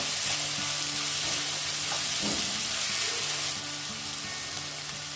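Onions lightly frying in a pan, producing a dense steady sizzle close by that holds evenly throughout and eases a little toward the end, with no talk.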